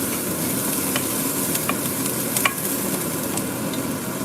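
Food being toasted in a hot pan is stirred, producing a continuous close sizzle with occasional scraping clicks of the utensil, no voices.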